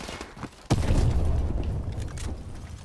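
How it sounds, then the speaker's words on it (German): A sudden deep boom of a car exploding in Call of Duty: Modern Warfare Remastered breaks in after a brief quieter moment, followed by a rumbling decay that lingers to the end. "ich wusste, das Ding explodiert"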